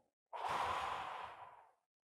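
One deep breath drawn in, a single close, breathy inhale rising quickly and fading smoothly over about a second and a half, alone in quiet surroundings.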